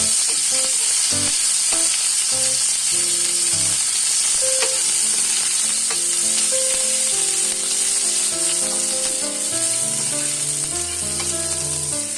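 Onions sizzling as they fry in a pan with oil and nigella seeds, a constant close crackle with occasional stirring scrapes, no one talking.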